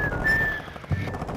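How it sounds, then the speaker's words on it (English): Whistling from a teammate in the video game DMZ, a steady high tone lasting about half a second, with faint gunfire-like thumps and game noise underneath. "Is our teammate just whistling, dude?"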